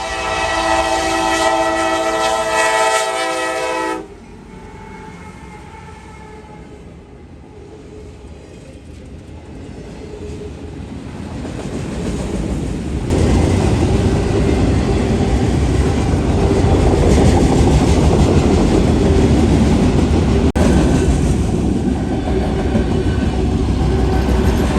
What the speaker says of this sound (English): Eastbound rack train M204 is seen heading eastbound at QI 105.